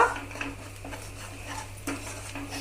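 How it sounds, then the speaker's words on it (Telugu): Paneer butter masala ingredients with garam masala being stirred in a pan, a spoon scraping and clinking against the metal in soft, uneven strokes, close by over a low steady hum, without speech. "ఇవన్నీ వేసాకండి కొంచెం కలుపుకోండి బాగా"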